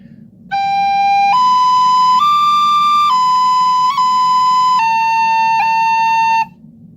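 A single breathy recorder plays a short melodic phrase of sustained notes, clear and close, with a faint low hum beneath.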